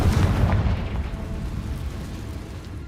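Confringo blasting spell going off in Hogwarts Legacy, a loud close booming explosion with a rumbling tail that decays over a few seconds.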